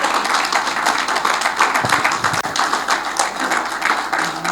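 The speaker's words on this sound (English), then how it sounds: "I think we must first clap" An audience at a memorial lecture breaking into applause, a dense, loud, sustained wash of many hands clapping close by, steady throughout without any speech.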